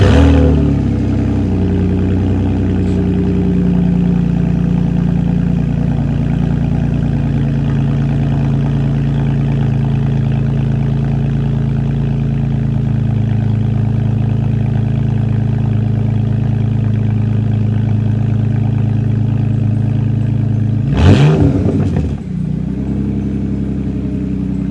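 A 2002 BMW 330Ci widebody engine cranks and fires up loudly, then settles into a steady, close idle for about twenty seconds before a sharp mechanical blip near the end.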